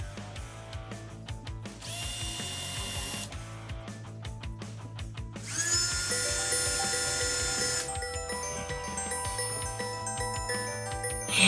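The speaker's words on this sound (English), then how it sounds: "countersink some holes at the bottom of the pieces of plywood where it's going to attach to the the base thing" A power drill countersinks holes near the edge of plywood pieces, its motor whining in several loud bursts of a few seconds each with short pauses and faint clinks between them.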